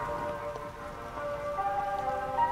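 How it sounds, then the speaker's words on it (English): Steady rain in a video game patters softly on a surface, a continuous gentle hiss with no voices. "Oh, it's raining outside."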